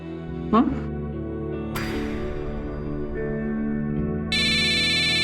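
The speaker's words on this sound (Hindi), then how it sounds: "भाभी मेरा फोन।" A mobile phone ringtone cuts in near the end, a steady bright electronic tone over voices and background music in a domestic TV crime drama scene.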